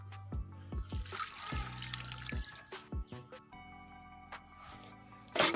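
Water is poured onto a hibiscus plant in a home garden in short splashing, trickling bursts, close and fairly quiet, with brief pauses between pours.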